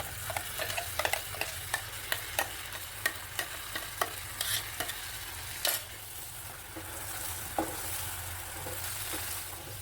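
Ivy gourd paste goes into a hot pan and fries with a steady hiss, while a utensil stirs and scrapes in irregular clinks and taps. The sound is close and quiet, with no talking.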